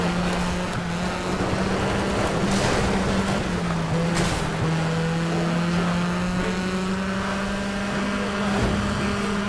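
A rival car's racing engine in the video game Sega Rally hums steadily and loudly throughout, its pitch wavering slightly up and down as it holds speed.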